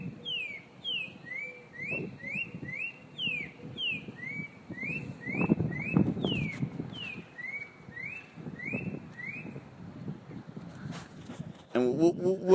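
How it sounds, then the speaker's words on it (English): Repeated clear whistled phrases of a spot-breasted oriole, rising and falling notes in quick succession, heard over a steady low rumble and some nearby voices. "We're listening to his spot-breasted oriole"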